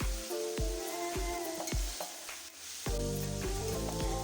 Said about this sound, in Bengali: খুব ভালোভাবে ভেজে নিচ্ছি